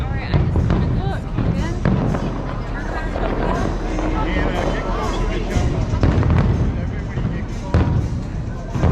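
Fireworks explode at a July 3rd show with a run of loud booms and crackles over a dense crowd murmur, while nearby people talk throughout.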